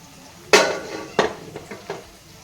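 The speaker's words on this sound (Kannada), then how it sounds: "ಕುಕ್ಕರ್ ಓಪನ್ ಮಾಡ್ತೀನಿ." Metallic clanks of a pressure cooker lid being opened in a home kitchen while cooking rice and lentils for bisi bele bath, one sharp clang then a second and a few softer taps.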